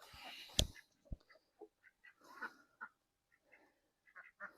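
Ducklings quacking in a backyard kept with hens and ducks in the UK: a scatter of short, soft calls at close range, with one louder squawk early on and brief pauses between.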